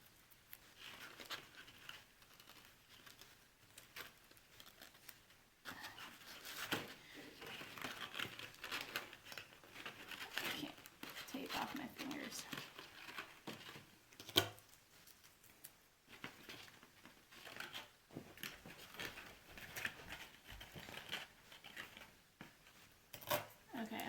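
Tape is applied to a tagboard model along a curve for slab construction, producing close crinkling, peeling and tearing sounds in irregular bursts, with a person talking quietly at times.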